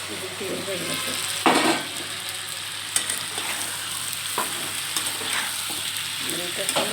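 Pre-fried vegetables for a potato and pointed gourd curry reheating in a pan, a steady broad sizzle throughout with a few sharp stirring scrapes and spatula knocks, close and moderately loud.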